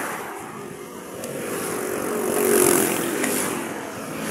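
Motorcycles and other traffic pass along a busy coastal road in Davao City, a steady broad rush of engines and tyres that swells as one vehicle goes by close, then recedes.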